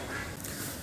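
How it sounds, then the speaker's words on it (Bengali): Quails kept in two cages on a small bird farm, about forty birds, call out for food in a brief, faint burst of chirping and squawking against a noisy background. "ঘরে ঢোকার সাথে সাথেই কোয়েল পাখিগুলো ডাকাডাকি শুরু করে দেয় খাবারের জন্য।"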